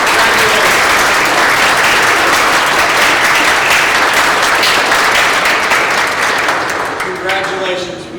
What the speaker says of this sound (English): give yourself a little round of applause